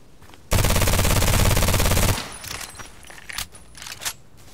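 A Kriss Vector SMG in Contract Wars lets off one long, very fast full-auto burst of about a second and a half, loud and close, then sharp clicks and clatters of handling and distant game sounds follow.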